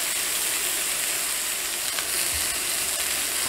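Steak sizzles loudly and steadily in a cast iron pan just after being flipped, a dense, continuous crackling hiss with a few faint clinks and no talking.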